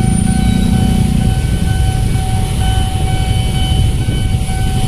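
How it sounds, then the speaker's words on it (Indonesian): A train passes on the rail line along Jl. Gunung Sahari, a loud, continuous rumbling roar with steady tonal whine from the cars close by, no speech over it. "Ayo kita lihat kereta yang lewat ya."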